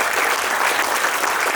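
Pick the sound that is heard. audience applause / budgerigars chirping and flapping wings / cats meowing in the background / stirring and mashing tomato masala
audience applause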